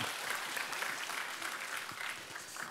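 Applause from a church congregation at a Friday evangelism gathering, a dense, steady wash of clapping lasting throughout, fairly close and even.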